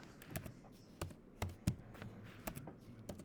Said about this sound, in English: I'm just typing in the horsepower